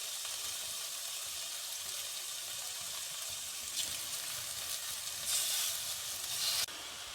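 Marinated boneless tandoori chicken pieces sizzle steadily on an olive-oil-brushed tawa, a continuous hissing fry with a slight rise in intensity near the end; no one speaks.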